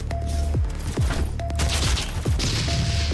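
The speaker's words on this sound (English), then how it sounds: "Why do I have infinite ammunition for the assault rifle?" An assault rifle fires in Doom, its sharp shots landing in quick, irregular bursts over a busy game backdrop with tonal whines, loud and close, with no talking.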